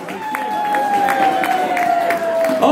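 An audience claps and cheers at a Purim party in a community centre, a dense burst of applause running the whole time with a sustained tone ringing over it.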